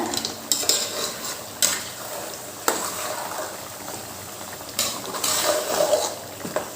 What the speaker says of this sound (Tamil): நம்ம 1 கிலோ எடுத்து வச்சுருந்த சிக்கன் இருக்குது பார்த்தீங்கன்னா, அதை ஆட் பண்ணிக்கலாம். நல்லா கிளறி விட்டுக்கோங்க.